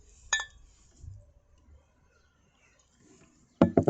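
Glasses clink together in a toast, one bright clink near the start followed by a faint lull, then a louder cluster of clinks at the end.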